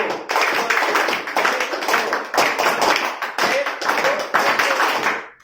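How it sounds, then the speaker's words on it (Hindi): Rhythmic hand clapping in a classroom lesson, claps falling in repeated groups of three with short pauses between groups, fairly close and steady. "हम लोग जो है एक अच्छे तरीके से ताली 3 तालियां बजाएंगे"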